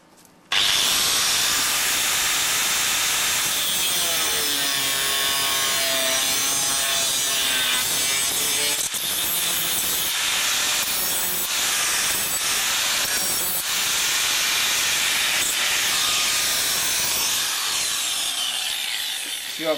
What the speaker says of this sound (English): If you are good with your grinder, you can actually cut the sharp edges very quick, so you don't cut yourself